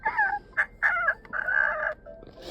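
A human voice imitates a chicken in the My Voice Zoo video game: several bursts of loud, nasal clucking and crowing-like calls in quick succession, close and clear, with no other talk.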